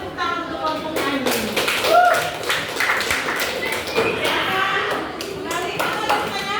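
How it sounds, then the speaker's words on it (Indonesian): A classroom group claps for a singing group with brisk, fairly even hand claps and taps, while voices talk over the clapping throughout. "Sekali lagi tepuk tangan untuk kelompok nyanyi."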